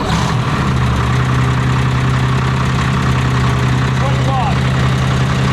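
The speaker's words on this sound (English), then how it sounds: "So we'll now warm the GU engine up a little bit" A Chieftain main battle tank's heavy engine turns over and settles into a loud, steady low idle, droning continuously.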